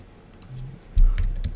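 Fingers type on a computer keyboard, starting with a few light taps and then a quick, louder burst of clattering keystrokes close to the microphone.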